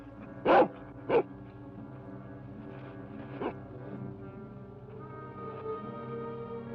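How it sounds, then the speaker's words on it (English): A dog in an old western TV episode barks sharply twice, then once more a few seconds later, over sustained orchestral background music. "a dog."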